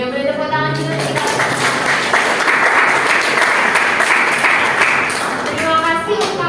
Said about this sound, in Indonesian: Boleh tepuk tangan juga kita.